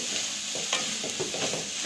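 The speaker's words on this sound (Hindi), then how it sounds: "पनीर को डालकर अच्छे से मिलाएंगे।" Paneer being stirred into frying onion and capsicum for paneer momo filling, a steady close sizzle with a few soft spoon scrapes and knocks against the pan, no talking.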